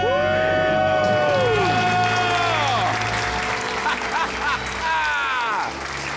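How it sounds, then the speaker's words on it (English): A studio crowd whoops, cheers and claps loudly together after a debt-free scream on a radio call-in show, with long rising and falling shouts over sustained applause. "Let's hear a debt-free scream."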